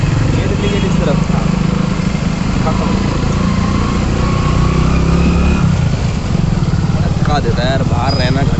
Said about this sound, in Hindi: बिल्कुल बाइक मिसिंग क्यों कर रही है